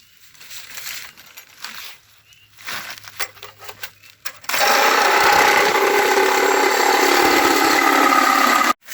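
Power cutting through fiberglass body panels on a Studebaker truck during a frame swap, a loud continuous grinding roar starting about halfway through after quieter handling noises and light tapping.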